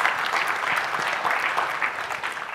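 An audience claps steadily throughout at a tech conference talk about Node.js and npm, a dense, continuous round of applause with a faint voice underneath.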